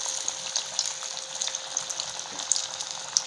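Jackfruit seed vadai frying in hot oil, a steady close sizzle with crackling pops scattered throughout and a couple of sharper spits near the end, with no voices.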